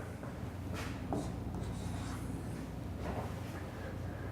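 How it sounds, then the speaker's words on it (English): A pen or pencil scratches across paper while numbers from a subtraction problem are written down by hand, soft short strokes over a faint room hum, no speech. "I'm going to go ahead and write that down."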